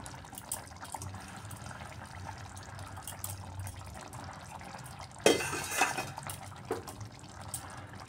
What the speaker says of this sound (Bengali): ধনেপাতা কুচি দিয়ে একটু মিক্সড করে নিচ্ছি মাছ।